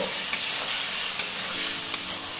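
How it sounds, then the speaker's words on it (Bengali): Chopped tomatoes sautéing with salt and turmeric for a Bengali tomato khatta, a close steady sizzle and hiss with a few soft scraping stirs of a spoon in the pan, no talk. "এবারে এই টমেটোটাকে একটু কষিয়ে নেব।"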